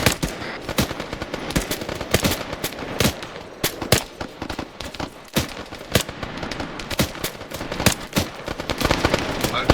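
Machine gun fire in a military video game, loud rapid bursts and single shots cracking irregularly throughout, dense and close, with faint voices underneath.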